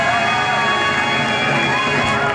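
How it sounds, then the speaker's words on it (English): A school audience at a high school musical production fills the hall with dense, steady noise of applause and cheering that holds loud and unbroken throughout. "Please, one more round of applause."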